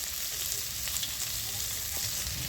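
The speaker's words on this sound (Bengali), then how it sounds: "তেলের মধ্যে আমি একে একে সব উপকরণগুলো দিয়ে দিচ্ছি" Ginger, garlic, onion, dried chili and tomato crackle in hot oil, giving a dense, even sizzle that stays close and loud throughout, with faint utensil ticks and no voices.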